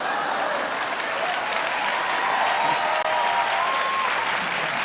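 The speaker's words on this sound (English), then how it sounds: "they actually showed a crowd shot looking over the shoulders of the crowd as they're clapping" A crowd claps in a bar scene, continuous dense applause at an even level throughout, with faint scattered voices underneath.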